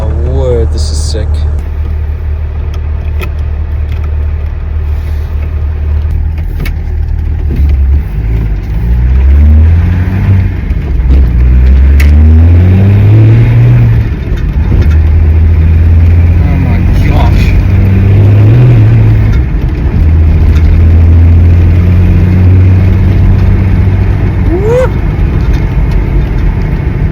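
Land Rover Defender fitted with a BMW M57 diesel engine accelerating hard, a loud, steady engine drone heard from inside the cab with rising and falling pitch through the gears, voices speaking over it.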